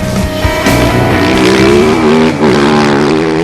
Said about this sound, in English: the CRF 450 rally's really running beautifully for Honda this year